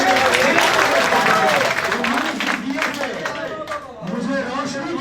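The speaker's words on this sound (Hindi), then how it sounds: "ताली बजाकर" Clapping rises from the audience at a poetry recital (mushaira), mixed with crowd chatter and a voice speaking over it throughout.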